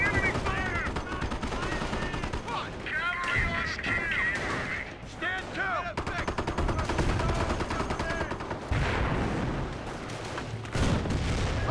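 Rapid gunfire and explosions fill a Company of Heroes battle, with bursts of shots and booms repeating loudly throughout, mixed with game voice callouts.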